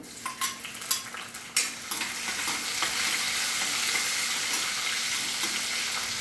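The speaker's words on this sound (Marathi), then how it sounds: "थोडे हिंग टाकूया, मिरची टाकूया" Asafoetida and chilli hitting hot oil: a few sharp crackles and spatters give way to a loud, steady hiss of sizzling that holds to the end, with no voices.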